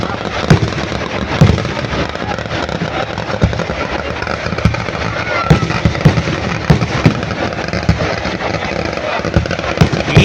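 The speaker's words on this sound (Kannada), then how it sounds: "ಇವಾಗ ನೋಡಿ ಶುರುವಾಯಿತು ಪಟಾಕಿಗಳ ಚಿತ್ತರ ಬಾನಂಗಳದಲ್ಲಿ." Fireworks burst over a crowded festival ground at Suttur, heard from a crane, as a dense, continuous crackle of pops and bangs with sharper loud cracks scattered through, largely free of talk.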